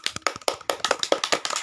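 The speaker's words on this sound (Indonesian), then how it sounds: "Beri tepuk tangan dulu dong." A small group clapping close by, fast and uneven, about a dozen and a half quick hand claps packed into under two seconds.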